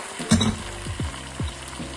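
Chicken pieces dropped onto sizzling ginger and garlic in a pan for a spicy Sri Lankan curry: a burst of frying hiss followed by several low thuds and scrapes of stirring, close up, no speech.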